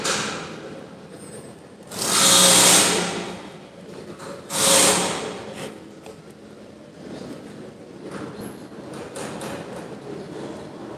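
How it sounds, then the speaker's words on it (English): Large mattress manufacturing machinery powered up in a factory, running with a steady broadband mechanical hum and two louder whooshing surges near the start, with no talk. "So I press the red buttons and give the power to the whole"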